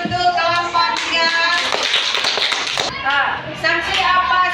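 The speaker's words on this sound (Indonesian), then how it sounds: "tepuk tangan untuk kelompok 3." A group of students applauds for group 3 in a classroom, a short burst of hand clapping that rises under and between talking voices, fairly close and lively.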